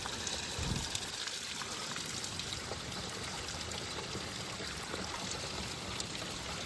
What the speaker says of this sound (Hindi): पानी भर रहा हूँ ग्लेशियर का।